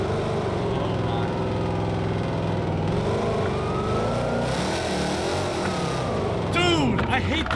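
A 1000-horsepower Dodge Demon driven through city streets in BeamNG.Drive, its engine droning steadily and then revving and sweeping up and down in pitch, with a tire screech near the end and someone talking over it.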